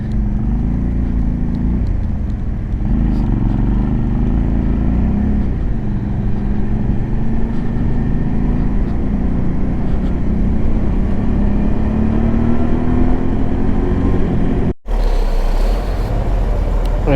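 Rainy city traffic on Nairobi's Uhuru Highway, heard from a Suzuki V-Strom motorcycle: a loud, continuous rumble of engines and wet road noise with shifting revs, cutting out briefly near the end.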